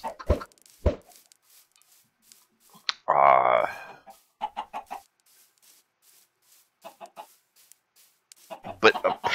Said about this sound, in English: We'll birth a chicken.